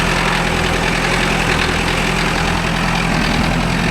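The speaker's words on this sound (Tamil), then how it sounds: "இதில் வண்டி போகிறது எப்படி போகுதுன்னு பாருங்கள்." A Mahindra Arjun Novo 605 S tractor pulling a five-point cultivator through a field, its diesel engine a loud continuous rumbling drone that stays steady and close, with no talking.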